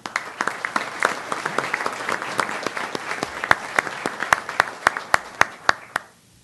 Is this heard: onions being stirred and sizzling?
no